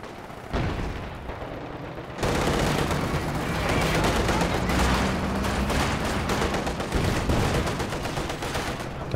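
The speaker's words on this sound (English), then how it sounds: "Dumb snipers are ripping in here." Sniper fire and other weapons crack through a Company of Heroes 2 battle, with sporadic sharp shots and bursts layered over dense rumbling combat noise that swells and stays loud throughout.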